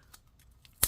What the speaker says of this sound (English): Man, this thing is hard to peel off.